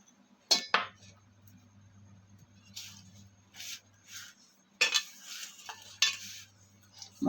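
Jaggery sunnundalu laddu mixture stirred in a bowl, with sharp clinks and scrapes of a utensil in separate bursts over a faint low hum.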